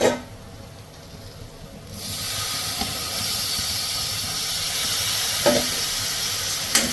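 Tomatoes hit hot, roasted spice powder in a pan on low flame and break into a loud, steady sizzle and hiss. It carries on unbroken with a few faint clinks, and no one speaks.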